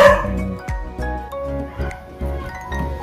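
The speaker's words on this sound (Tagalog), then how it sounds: "yung aking aso guys, nagpakaingay na naman." A dog barks and yips in a rapid series of sharp, close bursts, with a faint background murmur between them.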